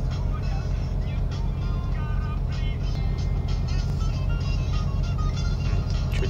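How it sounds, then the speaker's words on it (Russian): A loaded logging truck's wheels spin and slip on a narrow clay forest road, the engine holding a loud, steady, close labouring drone throughout. "Просто буксовка идет."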